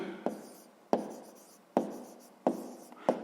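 A pen taps and scratches out a maths answer on paper in five sharp, evenly spaced strokes, close and quiet, with no talk.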